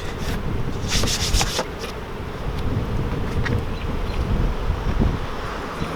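Honeybees buzz steadily around an opened nuc hive during an inspection, a dense continuous hum close by with scattered rustling and scraping of hive parts, no voices.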